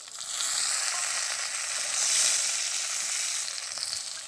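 Chopped tomato hits hot oil with fried garlic, setting off a loud, broad hiss that swells quickly and holds steady for several seconds, close by with no voices.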